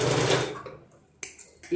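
Domestic sewing machine stitching saree fabric, being converted into a long frock, in short close bursts of rapid whirring separated by brief pauses, loud and with no talking.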